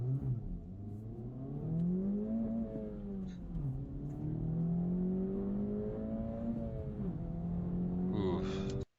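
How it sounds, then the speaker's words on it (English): A car engine pulls hard, its droning note climbing in pitch as it accelerates, dips briefly between gears, then rises again before cutting off abruptly. "Engine sounds good."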